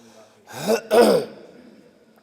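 A man clears his throat with a short cough, two quick rasping bursts close to the microphone followed by a brief fading breath, during a religious lecture.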